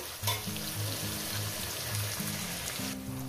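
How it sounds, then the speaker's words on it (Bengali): Bitter gourd pieces fry in a pan with a light salting, producing a soft, continuous sizzle close by that cuts off near the end, with no speech. "এবার এই করলাটা ভেজে অল্প অল্প করে লবণ ছিটিয়ে আমি এটাকে ভেজে নেবো।"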